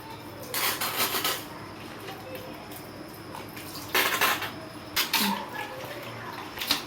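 Salt, lemon and curd being mixed in a bowl, bursts of spoon clatter and scraping against the bowl separated by quieter gaps.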